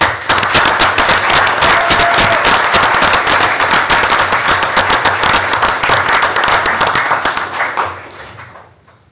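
Loud, sustained audience applause at a city council meeting, dense clapping from many hands holding steady before fading out near the end.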